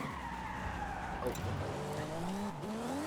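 A Nissan S15 drifting in Forza Horizon 5: a steady, loud engine drone rises and falls in pitch with the throttle while continuous tire squeal runs underneath for the whole stretch.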